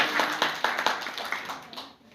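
Brief round of hand clapping from a small crowd at a rural pharmacy officers' union gathering, a few sharp claps then thinning and fading out within two seconds.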